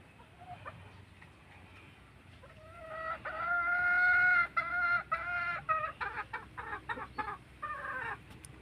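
A Johnny Jumper Kelso Dark Side gamefowl rooster crows once at moderate distance, then gives a string of short, choppy clucks over a quiet outdoor background.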